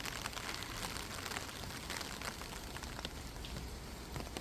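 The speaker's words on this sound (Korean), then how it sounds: "비가 오니까 어, 꽃들에게는 정말 좋은데 비가 너무 자주 와서 문제입니다" Rain falls steadily on a home yard garden of flowers, a soft, even patter and hiss of drops that carries on through the whole stretch with no voices.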